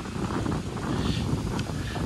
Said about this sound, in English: Apologize for the windy day.